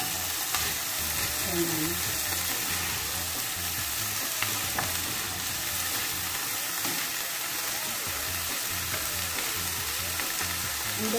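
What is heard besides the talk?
vegetables being stirred and fried in a pan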